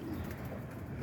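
Roller pigeons in a loft give soft, low cooing close by. The coos are faint and continuous through a short stretch.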